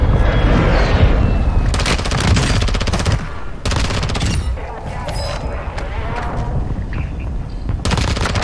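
Warzone 2 gameplay on Ashika Island with a friendly mortar strike: dense bursts of gunfire and booming impacts in quick volleys, loud and close, with brief pauses between barrages.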